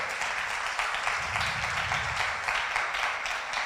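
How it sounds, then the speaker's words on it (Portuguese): Church congregation applauding, a steady wash of many people clapping at moderate volume, with a low hum of voices briefly swelling underneath midway through. "Vem aplaudir o Senhor por isso"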